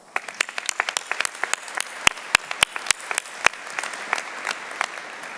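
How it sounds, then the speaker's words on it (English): A commencement crowd applauds the faculty, dense steady clapping from many hands with several loud individual claps ringing out close by for the whole stretch. "Please join me in saluting our faculty with a round of applause."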